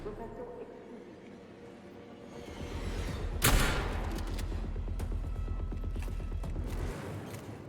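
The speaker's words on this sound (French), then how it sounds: "on va les tuer aux pompes" Shotgun fire in the video game Atomic Heart: one loud, sharp blast near the middle, followed by a rumbling game soundscape and a fainter later shot, with a voice talking throughout.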